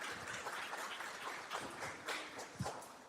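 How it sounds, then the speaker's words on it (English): Faint audience applause from a civic assembly in Oakland, a soft, steady patter of many hands clapping at a distance, with no talk over it. "Round of applause, please, for you."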